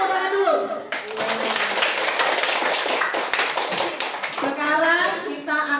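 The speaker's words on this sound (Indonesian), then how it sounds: "kita tepuk tangan dulu" A primary school class claps hands together, a burst of brisk, fairly loud clapping lasting several seconds, framed by children's and a teacher's voices talking before and after.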